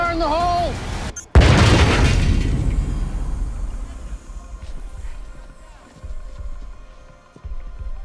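A bomb detonation in a S.W.A.T. operation bursts out loud and sudden after a brief pause, followed by a long, deep rumbling roar that slowly fades away.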